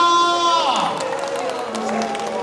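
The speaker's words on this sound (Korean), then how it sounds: "박수를 함께 힘껏 쳐주시고 함성도 한번 부탁을 드리도록 하겠습니다." An audience applauds and cheers at a wellness and healthy-ageing forum lecture, with a broad, steady wash of clapping and crowd noise rising after a brief musical tone and holding to the end.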